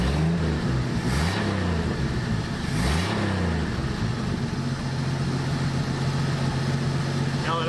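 A 1984 Dodge Ram D100 pickup's engine idles steadily and close, with a couple of brief throttle swells early before settling into an even rumble.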